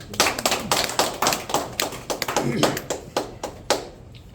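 Hands clap together at a Korean association's monthly meeting, a close, fairly sparse series of sharp claps in an uneven rhythm, with a few voices underneath.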